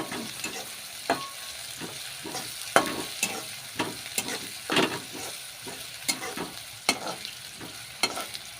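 Onion, chili and tomato frying in a pan sizzle under repeated scraping stirs, the spatula strokes landing in a loose rhythm of sharp bursts about once a second, close and clear with no speech.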